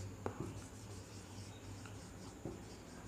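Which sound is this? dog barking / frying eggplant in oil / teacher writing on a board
teacher writing on a board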